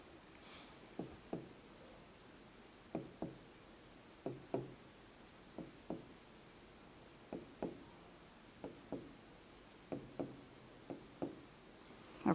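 DNA fingerprint band pattern drawn by hand, short scratchy pen or marker strokes in a steady irregular series, close and quiet, with no talking.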